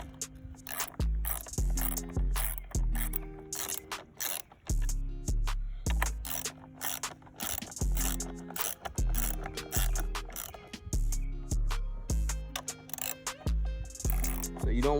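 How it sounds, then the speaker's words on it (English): Repeated ratcheting clicks as bolts are tightened on an Echo chainsaw during a loose-chain repair, steady rhythmic bursts close up with brief pauses between strokes. "go ahead and tighten your bolts back up."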